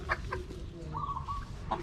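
Hens on a Filipino backyard farm clucking in short bursts, with one longer, higher call in the middle, close by over a steady rumble of background noise.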